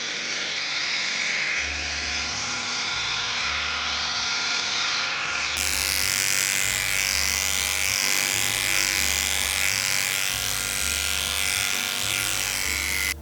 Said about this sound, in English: making sure everything's nice and blended with our clippers using our inch snap-on